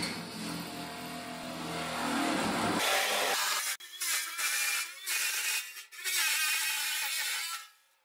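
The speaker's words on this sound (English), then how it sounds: "the saber saw is next up for this event" A saber saw cuts a large hole in the top of a metal fuel tank from an M715 military truck, loud and continuous. The cut runs steadily, then breaks into choppy bursts with brief pauses before trailing off.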